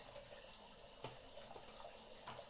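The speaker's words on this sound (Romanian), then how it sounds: "Aprindem apa." Water runs steadily from a bathroom tap into the sink, a soft continuous hiss at low level, with faint small clinks and no talking.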